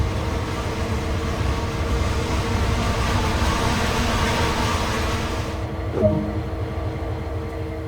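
A Clinchfield Railroad SD40 diesel locomotive in a train simulator game drones with a loud, steady low engine rumble throughout, with a brief clank near the end.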